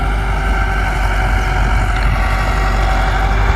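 Massey Ferguson 375 tractor pulling a 60-blade rotavator through wet, heavy ground, its engine droning loud and steady up close with a deep low rumble and no voices.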